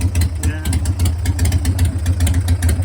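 A Harley-Davidson motorcycle engine idles steadily while warming up, with a deep, throbbing low rumble, running continuously and fairly loud close by.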